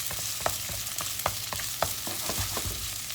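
Onion fries in a pan over fairly high heat with a dense, continuous sizzle and crackle, plus frequent sharp pops and stirring clicks close by. No one speaks.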